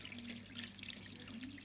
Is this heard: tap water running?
yes